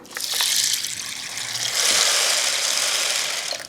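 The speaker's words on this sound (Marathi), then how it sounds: "यामध्ये पाणी घालायचं भरपूर" Water gushes steadily into a container of sago pearls, a continuous hissy pour with slight rattling, close by and fairly loud.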